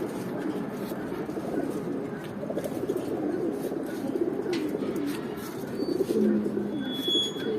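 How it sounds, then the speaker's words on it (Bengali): Soft, low cooing of about fifteen pigeons at a pigeon club murmuring continuously over a noisy, rumbling background, with a few faint higher calls near the end. "এখানে ভাইয়ের পনেরোটা কবুতর আছে"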